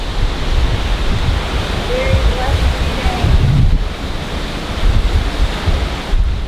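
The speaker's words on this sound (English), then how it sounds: "So windy one out here." Strong wind buffets the microphone in heavy, low rumbling gusts, a constant roaring blast with faint voices barely audible beneath.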